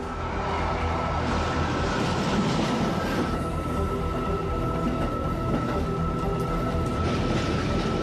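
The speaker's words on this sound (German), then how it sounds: "Plangemäß hält der Schnellzug 5418M nicht an der nächsten Station, sondern fährt mit 120 Kilometern pro Stunde durch." Express train 5418M races through a station near Amagasaki, Japan, at 120 km/h, producing a loud, steady rolling rumble with rail noise that lasts throughout and has no speech.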